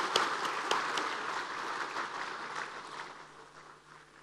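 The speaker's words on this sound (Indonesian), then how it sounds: "Tepuk tangan untuk para hadirin kita." Guests at a national party congress in a hotel ballroom clap in a broad, fairly distant wave of applause that gradually fades away.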